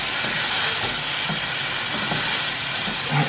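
Stir fry sizzling in a hot pan while being stirred, a loud continuous hiss with faint scraping, with no talk over it.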